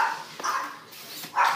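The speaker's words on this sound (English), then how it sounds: "Our dogs are going crazy." Dogs bark indoors in a few short, moderately loud bursts, with yips spaced across a brief moment and no talking.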